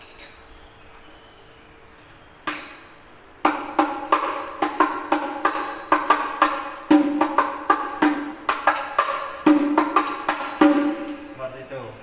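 Rebana frame drum playing the fourth-stage practice pattern, a Rebana group training session: after a couple of isolated strikes, a steady run of sharp, resonant hand beats rings out loud and close, alone without talk.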